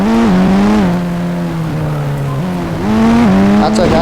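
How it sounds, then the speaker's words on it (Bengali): A car engine drones steadily while driving through heavy rain in the Indian Bikes Driving 3D game, its pitch dipping and rising with throttle changes and a brief tire screech near the end, loud and close. "আচ্ছা, গাড়ি দিয়ে সামনে যাই"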